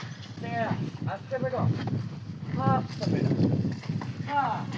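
A mare dancing at a village gathering in Bhesan, Junagadh, Gujarat, her hooves clip-clopping in a steady rhythm on hard ground while voices carry on throughout.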